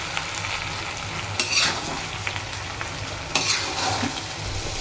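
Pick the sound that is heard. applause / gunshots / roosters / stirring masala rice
stirring masala rice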